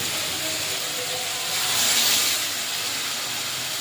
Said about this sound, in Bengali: ওই গরম জলটাই দিলাম